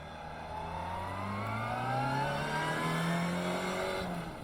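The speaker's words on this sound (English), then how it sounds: "We're in second gear now, up to third." The Scholar car accelerating on a shakedown run, its engine note rising steadily as it pulls through the gears, loud and close with no voices.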